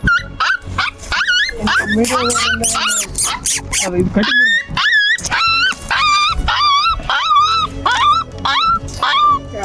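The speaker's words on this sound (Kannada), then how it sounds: "ಅಯ್ಯೋ ಪಾಪ ನಾಯಿ ಫ್ರೆಂಡ್ಸ್ ನೋಡಿ" A distressed dog that has fallen into oil gives repeated high-pitched yelps and whimpers in a steady run of short cries, close and loud throughout, with other sounds mixed in.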